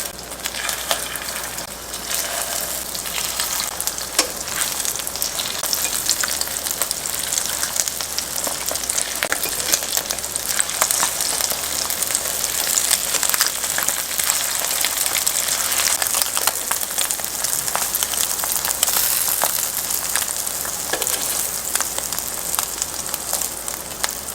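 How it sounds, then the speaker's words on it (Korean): Steady, dense sizzling and crackling of egg-battered zucchini frying in hot oil in a preheated pan over medium heat, close and continuous with no voices. "예열한 팬에 식용유 적당량 두르고 애호박에 계란물을 입혀서 중돌에 노릇하게 붙여줍니다"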